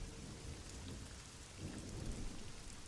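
Heavy rain pours steadily with a deep rumble of thunder rolling underneath, a dense, continuous wash of sound that swells slightly toward the end.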